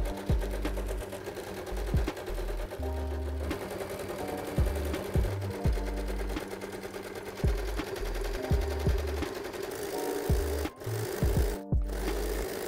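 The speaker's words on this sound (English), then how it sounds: "Last thing to do is sew them together." A sewing machine stitching skinny jeans, a steady rapid mechanical chatter running close and loud almost the whole time, with a few brief pauses and shifts in speed.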